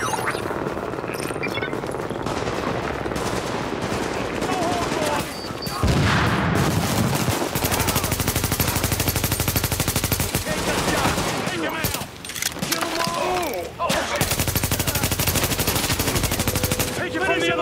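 Loud sustained automatic gunfire in The Division video game, dense rapid bursts layered with heavier booming shots, broken by brief lulls, with occasional voices in the background.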